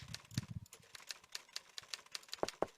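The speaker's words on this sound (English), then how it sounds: "follow the sound of typing" A typewriter clatters in the Nancy Drew video game Treasure in the Royal Tower with quick, steady keystrokes and a couple of heavier key strikes near the end. The sound is faint and distant, and no voices are heard.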